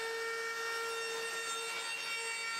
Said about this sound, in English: I decided to add a roundover to the edges using my router.